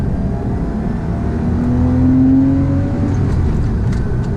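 1998 Porsche Boxster engine revving, a smooth, steady drone with a rising whine as revs climb, moderately loud and close, no voices.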